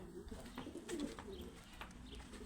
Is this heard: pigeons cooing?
yes